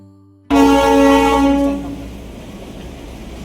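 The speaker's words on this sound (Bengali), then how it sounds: "আর এই দেখো কথা বলতে বলতে একটা টয় ট্রেন যেতেও দেখে নিলাম" Darjeeling toy train near Ghum station sounding a loud, sustained horn that cuts in abruptly and holds about a second, then gives way to rumbling rail noise as the train passes.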